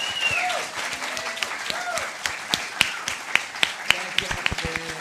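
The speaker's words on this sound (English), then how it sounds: "How about a big round of applause for all of our artists tonight?" A concert audience applauds the performing songwriters at a live show, sustained clapping with sharp individual claps standing out while a voice talks over it.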